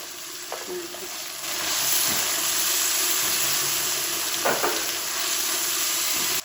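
Tomato, ginger-garlic and green chili fry in a pan with a steady broadband sizzle, broken by a few scraping stirs of a spoon, close and fairly loud, with no talking.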